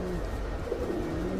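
Pigeons coo at a pigeon market, low rolling calls that overlap in a steady murmur from several birds close by, with faint background voices.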